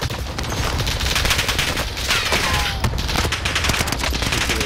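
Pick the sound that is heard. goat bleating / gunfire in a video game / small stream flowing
gunfire in a video game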